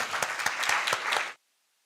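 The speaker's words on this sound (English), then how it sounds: "I think this deserves a hand of applause." An audience at a university law clinic launch event gives brief, dense applause with a few crisp claps standing out. It stops abruptly, leaving silence.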